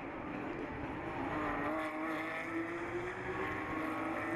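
Porsche 991 GT3 Cup race cars in a Carrera Cup France race at Barcelona, engines droning steadily at a distance with a continuous roar and rising pitch, no talking over it.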